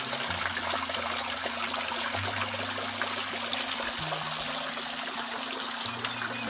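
Pure mountain spring water trickles at the Caldas de Monchique hot springs in Portugal, a soft continuous babbling stream with a faint low hum running beneath it.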